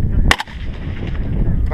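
AK-47 rifle fired at an outdoor range, one sharp loud report near the start standing out over a steady low rumble of background noise.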